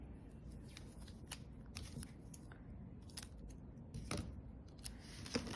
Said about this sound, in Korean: 원하는 스카치 테이프 크기를 뜯으신 다음에